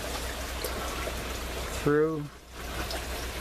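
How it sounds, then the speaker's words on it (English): Water trickles down through an aquaponic tower as a soft, steady wash, with a brief spoken word partway through. "Okay, it's flowing here. You can see the water hitting it,"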